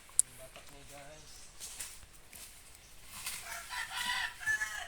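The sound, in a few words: chicken, rooster crowing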